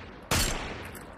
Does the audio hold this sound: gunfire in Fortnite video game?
yes